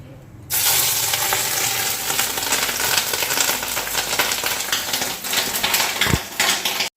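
Fish roe coated with onion, garlic and green chilli sizzles steadily in hot oil in a kadai, a loud, dense frying hiss after a short quiet start, with a brief utensil knock near the end.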